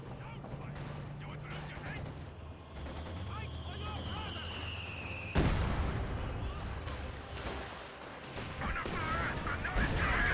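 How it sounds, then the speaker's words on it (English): A Katyusha rocket barrage in the World War II strategy game Company of Heroes 2: a rising whistle gives way to a sharp crash and rolling blasts amid ongoing battle noise. "Katusha rocket barrage running on in."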